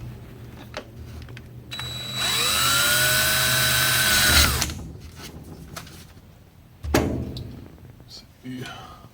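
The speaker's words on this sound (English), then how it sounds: "I'll pre-drill the hole." A power drill whines loudly for about two seconds as it pre-drills a hole in a 1966 Ford Bronco during restoration, preceded and followed by clunks and handling noises, with someone talking.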